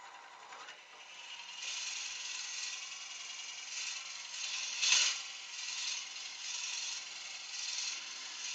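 A drill turning at 600 RPM while drilling a hole in a Christmas competition piece, giving a steady whirring, grinding mechanical sound with a slight rise around the middle, fairly quiet and with no talking.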